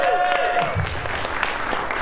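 Conference keynote audience applauding and cheering for a social-evening sponsor, a dense wash of clapping with voices mixed in, steady and fairly loud throughout.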